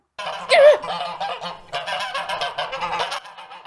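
A goose honks as a radio drama sound effect: a loud, close burst of honking, followed by a run of repeated cackling honks and squawks in uneven bursts, with no talk.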